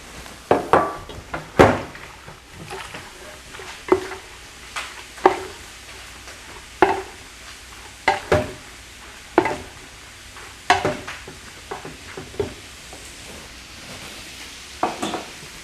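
Rice noodles and tofu are stir-fried with an infused dressing, a spatula scraping and tossing in a pan in regular sharp strokes roughly every second over a soft continuous sizzle, close and clear with no talking.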